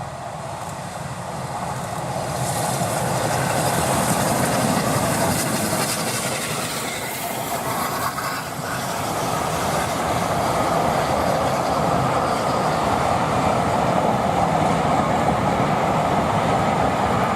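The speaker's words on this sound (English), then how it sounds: "Crowds gather at Erdington to see the locomotive fly through the station with a train bound for Kidderminster." A locomotive hauling a train bound for Kidderminster rushes through Erdington station, a loud sustained roar with rhythmic wheel clatter and hiss building and holding close by, no voices.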